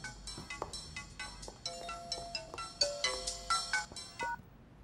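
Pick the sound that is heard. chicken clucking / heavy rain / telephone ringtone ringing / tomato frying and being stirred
telephone ringtone ringing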